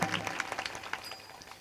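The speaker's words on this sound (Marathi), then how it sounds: "जोरदार टाळ्या आमच्या साऊंड ऑपरेटर दादासाठी" A small audience at a kirtan gives a short burst of scattered hand clapping for the sound operator. It is faint, a little uneven and fades within a second or two.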